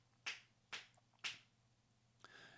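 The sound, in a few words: finger snapping behind the microphone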